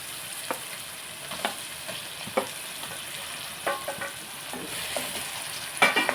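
Chopped tomatoes frying with cooked onion in a pan, a soft continuous sizzle punctuated by intermittent scraping taps of a spatula stirring, close by and with no speech.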